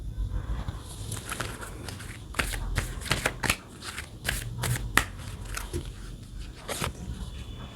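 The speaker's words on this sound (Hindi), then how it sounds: "एंजल्स आंसर्स में से भी हम यहाँ पे एक कार्ड यहाँ पे निकाल लेते हैं।" Tarot cards are shuffled and drawn by hand, a string of crisp riffling flicks and soft slaps up close, irregular bursts separated by brief pauses.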